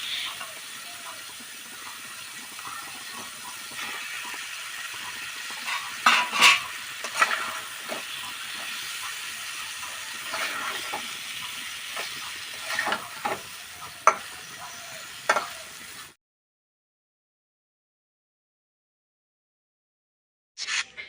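Fried pointed gourd and potatoes being stirred with spices in a pan, a steady close sizzle broken by repeated scrapes and clacks of the spatula, falling silent partway through before a brief final stir.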